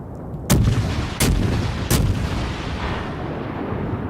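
Warship main guns fire three heavy booming shots about 0.7 seconds apart in World of Warships Legends, each a loud blast trailing into a rumbling battle backdrop with no talking.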